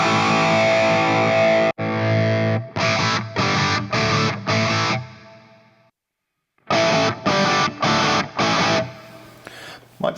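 An electric guitar played through an MVave Tank-G amp modeler on a distorted preset: heavy sustained chords, then rhythmic staccato stabs, a brief silence, and another run of clipped chord hits.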